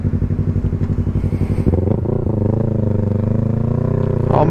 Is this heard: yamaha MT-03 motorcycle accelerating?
yes